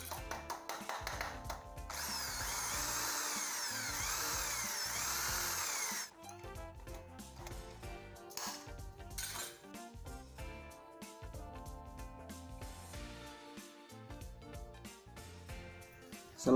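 Power tool cutting wire mesh parts for a stacked cage: a loud sustained grinding whine for several seconds, then a stretch of irregular clattering and buzzing cuts, with no speech.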